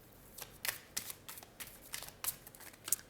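Tarot cards shuffled by hand close up, a run of quick, crisp riffling bursts repeating every half second or so, with no voices.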